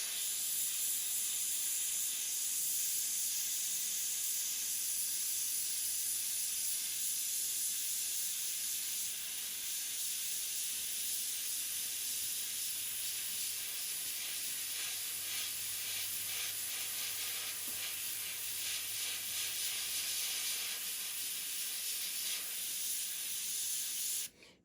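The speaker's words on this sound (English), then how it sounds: "I can spray the whole back blue" An airbrush sprays white paint onto a flocked wood duck drake decoy, giving a quiet, steady hiss that runs without a break for over twenty seconds before cutting off.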